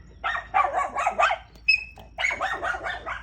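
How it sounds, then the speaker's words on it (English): A dog barks in rapid bursts, several quick yapping barks in two clusters with a short pause between, fairly close and loud. "I'm sorry if you can hear my dog."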